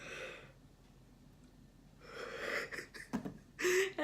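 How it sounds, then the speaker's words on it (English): A person yawning with breathy, drawn-out exhales and gasps, close and quiet, in several bursts separated by silence. "I swear this video is just me yawning"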